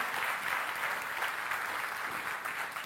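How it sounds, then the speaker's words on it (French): A church congregation applauds steadily, a dense, even wash of clapping from many hands that holds at a constant level throughout with no voices standing out. "Donnez-moi l'applaudissement au Seigneur."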